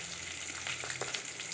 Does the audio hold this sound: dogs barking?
no